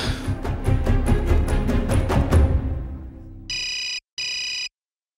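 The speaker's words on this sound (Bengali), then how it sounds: "ফোন বাজছে, তুলছে না কেন?" A telephone ringing in two short electronic bursts with a gap between them. Before the rings come clattering, thumping movement sounds, and no one speaks.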